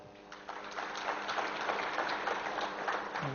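A room full of people at an education festival claps steadily for a few seconds, a dense patter of hands at moderate volume with no voices above it.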